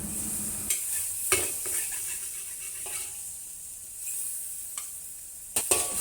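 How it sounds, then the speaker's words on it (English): Shrimp stir-frying for Thai drunken noodles, a steady hiss of sizzling oil broken by several sharp spatula strikes and scrapes against the pan. "I stir fry the shrimp separately as I do not want to overcook them."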